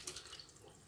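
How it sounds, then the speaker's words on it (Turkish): Water runs steadily from a tap as it is poured into a pot over stuffed cabbage rolls made from pickled cabbage, a close, continuous splashing flow with no talk. "Ve üzerine de biraz su ilave ediyorum."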